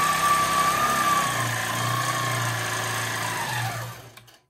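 A longarm quilting machine with a Pro Stitcher runs a steady mechanical hum with a pitched whine that slowly drops, then winds down and stops near the end, with no talking.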